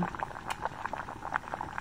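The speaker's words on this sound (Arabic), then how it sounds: "ملأ القدر ماء ووضعها على النار فلما أوشك الماء أن يغلي" Water in a cooking pot on a fire nears the boil, with small bubbles popping and gurgling in an uneven patter at close range.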